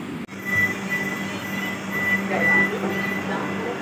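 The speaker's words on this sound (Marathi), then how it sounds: "2 नंबर फलाटावरती आपली गाडी आलेली आहे." The Hubballi–Pune Vande Bharat Express 20669 pulls into platform 2 at Satara station under construction, a steady low rumble and faint whine heard from on board, with a person talking over it.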